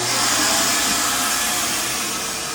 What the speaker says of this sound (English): This unit has the central vacuum system right here.